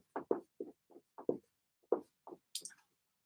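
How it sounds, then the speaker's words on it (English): Chalk or marker writing on a classroom board, a series of short scratchy strokes in an irregular rhythm with brief pauses between letters, close and quiet, no talking. "So I'm going to write central right here."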